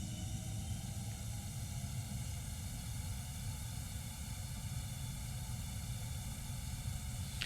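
Airliner engines in a flight simulator game during a tailwind takeoff, a steady loud droning roar with broadband rushing noise, unchanging and continuous, with no talk over it.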